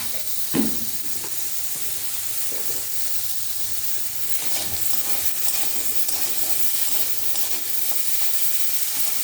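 A spiced curry with turmeric and salt sizzles and fries in a pan, a steady hiss with a few stirring scrapes and clinks, loud and close throughout.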